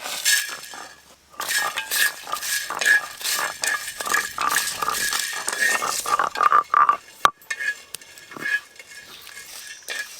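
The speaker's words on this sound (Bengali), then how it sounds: "সব কিছু একসঙ্গে ভালো করে ভেজে নেব।" Whole spices are dry-fried together in a pan for a mutton curry, with a steady rattling, clinking stir of metal against the pan and light scraping. The sound is close and continuous.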